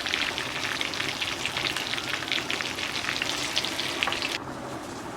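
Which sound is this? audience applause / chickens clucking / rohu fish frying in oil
rohu fish frying in oil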